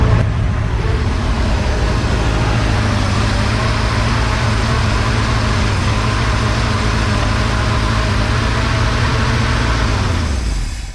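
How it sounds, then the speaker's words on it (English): An abandoned 1972 Plymouth Fury engine roars loudly and steadily, held at high revs to keep it from stalling, then drops off sharply at the very end; nobody speaks over it. "you barely give it gas and it wants to die, but it tries to idle as long as you speed it up a lot"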